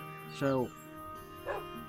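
A single Minecraft dog in a blocky kennel gives two short yips, the first louder and the second fainter, with a voice speaking briefly in the background.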